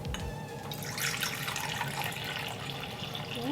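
Water poured into a tarantula's glass water dish, a short splashing trickle running steadily for a few seconds, close and fairly quiet with no voices.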